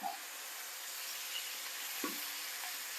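Beef steak sizzles in a very hot wok during a stir fry, a steady loud hiss with a couple of brief clinks as pieces go in, and no speech.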